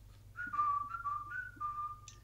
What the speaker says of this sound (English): I can whistle three or four different ways.